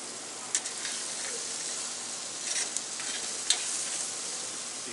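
Steaks sizzling on an outdoor grill over a Labor Day weekend cookout, a continuous bright hiss with a few sharp pops and crackles, heard alone without talk.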